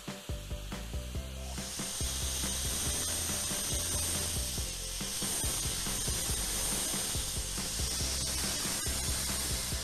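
A rust-removal machine working over a steel tank and ship hull surfaces gives a loud, continuous hissing spray over a low mechanical drone and rapid rattling.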